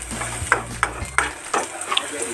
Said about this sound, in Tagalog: Pag medyo may amoy na or nagbabrown na yung ating garlic